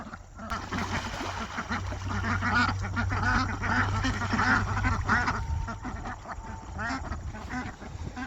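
Ducks quack repeatedly on a small homestead, joined by goose-like honks, close by and continuous under general barnyard noise.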